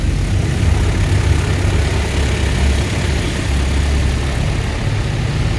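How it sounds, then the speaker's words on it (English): High pressure rinse inside a tunnel car wash, a loud, constant broadband rushing roar with deep rumble, steady throughout as if heard from inside the car. "The noise you just heard was actually our high pressure rinse that helps to knock off any bugs or dirt that may still be remaining."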